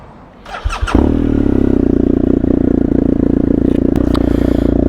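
A BMW GS motorcycle fitted with a full Akrapovic exhaust system starts up and settles into a loud, steady idle, its throbbing exhaust close by and heard without talk.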